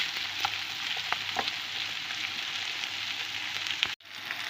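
Turkey sausages frying in oil in a pan give off a steady, close sizzle with occasional pops and stirring clicks, then a sharp knock and a brief drop near the end.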